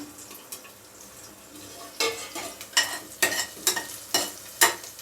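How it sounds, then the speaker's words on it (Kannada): Green chillies fry in a pan for fried rice, a low sizzle beneath repeated rhythmic scraping stirs that grow louder and more frequent, close and alone. "ಸ್ವಲ್ಪ ಚೆನ್ನಾಗಿ ಫ್ರೈ ಆದರೆ ಹಸಿಮೆಣಸಿನ್ಕಾಯಿ ತಿನ್ನೋಕ್ಕೂ ಚೆನ್ನಾಗಿರುತ್ತೆ ಅನ್ನದ ಜೊತೆ"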